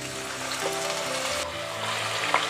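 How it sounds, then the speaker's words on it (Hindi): Onion drops into hot mustard oil in a pan and fries with a steady, close sizzle and bubbling for a couple of seconds, no talking. "इसमें सबसे पहले हम अपनी प्याज डालेंगे।"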